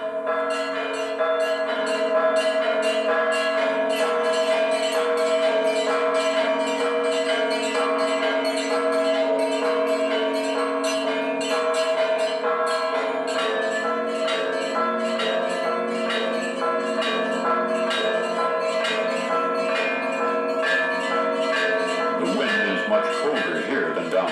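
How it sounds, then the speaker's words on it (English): Church bells rung by hand in a tower above St. Vladimir's church, playing a traditional melody; dense overlapping metallic strikes ring continuously and loudly with sustained tones, a steady ringing pattern throughout. "play a melody that has been the same since the bells were first hung in this tower"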